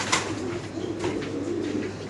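Lahori pigeons cooing in a steady, low, continuous murmur, several birds close by at a breeder's stock, with a brief sharper call near the start and no talk.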